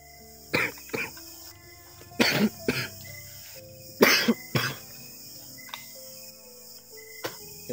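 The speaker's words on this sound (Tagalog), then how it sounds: "inuubo na ako" A man coughs in several short, harsh bursts, some in quick pairs, close to the listener, while crickets chirp steadily in the background.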